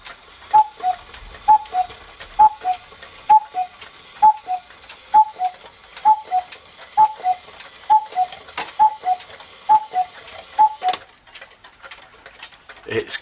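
An East German cuckoo clock, freshly cleaned and oiled, ticks loudly and evenly, a close double tick-tock repeating about once a second and then stopping near the end.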